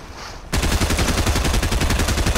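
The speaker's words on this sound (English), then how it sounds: "God, the SMG's so loud!" After a brief pause, a submachine gun in Fortnite opens up in a loud, rapid continuous burst of gunfire that keeps going to the end.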